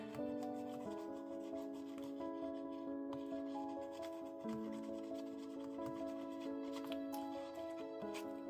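Steady scratchy rubbing of paper inside a steampunk-themed blue craft folio, continuous and close, with sustained background music playing throughout.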